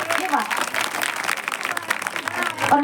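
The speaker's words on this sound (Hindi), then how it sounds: "जितना सुंदर दरबार लगा है उतनी सुंदर तालियां बजा दीजिए" An audience at a devotional jagran claps steadily in a dense wash of applause, and a voice talks over the clapping for most of its length.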